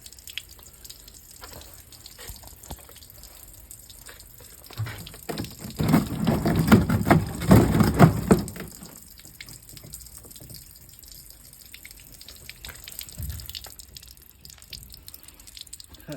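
Running water poured as simulated rainfall, a quiet trickle that swells into a loud, dense splashing rush for a few seconds before fading back to faint dripping.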